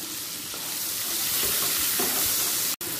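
Two large chopped onions frying in hot oil for paneer do pyaza, giving a steady, close hiss of sizzling with light stirring scrapes throughout and one brief dropout near the end.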